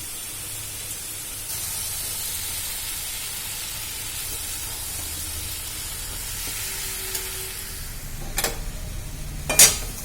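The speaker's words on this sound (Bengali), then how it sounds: "এইবার দিয়ে দিচ্ছি আলু ভাজা আর এই যে ঝিঙ্গে।" Fried potatoes and ridge gourd dropped into a sizzling spice gravy, a soft steady hiss and sizzle with faint stirring, ending in a couple of sharp utensil clacks.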